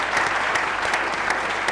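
Studio audience clapping for cricketer Mohammad Rizwan, a brief burst of dense, steady applause from a crowd close by, sounding lively and even throughout.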